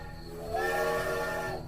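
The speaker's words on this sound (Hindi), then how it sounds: "ट्रेन के हॉर्न की आवाज सुनाई दी।" A steady, sustained horn tone rises and holds for about a second, mid-pitched with harmonics, sounding somewhat distant over a low rumbling background.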